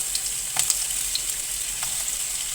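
Ginger, garlic and onion sizzle in a little oil, a soft, steady crackle close by with occasional stirring clicks, no voices.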